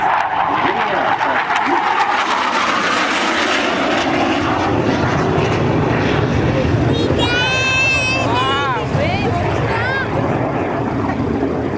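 A Swiss Hawker Hunter jet makes a topside pass at a seaside airshow, a loud, sustained roar and rushing whine filling the whole stretch, with a rising whistling tone partway through.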